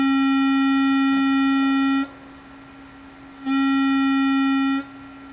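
A steady synthesizer oscillator tone under repair, a pure, loud, buzzy sustained pitch that runs for about two seconds, cuts out, then returns at the same pitch for another stretch before stopping again.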